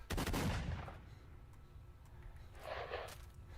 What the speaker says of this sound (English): There's a shotgun in here or something.